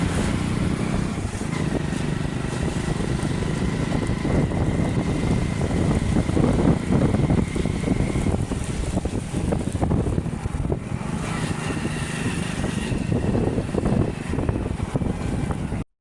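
A motorbike ridden along the road, a steady engine drone with heavy wind rush buffeting the microphone throughout, loud and continuous with no talk.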